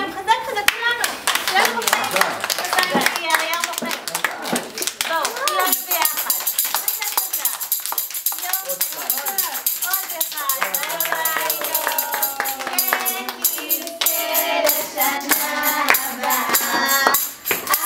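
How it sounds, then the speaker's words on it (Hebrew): Children and guests at a fourth birthday party clap their hands together in a lively, uneven burst that runs throughout. Kids' voices chatter and call out over the clapping, and an adult speaks at times. "ואנחנו נמחא לו כפיים חזק חזק כולנו"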